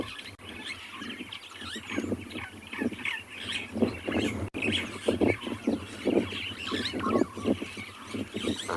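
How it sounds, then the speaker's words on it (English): Starlings mob a snake in the wild, firing off a ragged stream of harsh, noisy alarm calls and squawks. The calls overlap at moderate distance throughout, with no voices. "It's very common for birds when they find a snake to mob it, to make a lot of noise."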